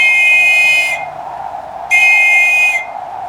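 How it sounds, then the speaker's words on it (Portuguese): A ship master's whistle sounds two loud, steady shrill blasts, each about a second long with a short gap between, over a low background hum in a theatrical sea scene. "o mestre toca o apito e avisa"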